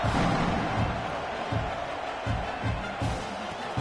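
Football stadium crowd buzzing before kickoff, a loud steady roar of many voices with low thumps and swells throughout, close and continuous.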